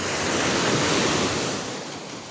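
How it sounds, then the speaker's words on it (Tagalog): Strong ocean surf at Dolo Boulevard beach, a loud roaring wash of breaking waves mixed with wind buffeting the microphone, easing slightly toward the end, with no talking. "Malakas ang alon."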